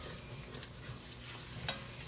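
Pasta water is stirred into a sizzling butter and flour roux in a pan, a steady bubbling hiss with a few soft scraping strokes of the utensil.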